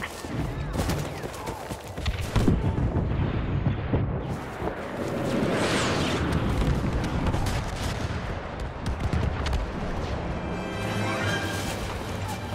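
Explosions and blaster fire crash in a dense, continuous barrage during a Y-Wing attack run on an AT-AT in the Star Wars Battlefront 2 video game, loud and chaotic throughout.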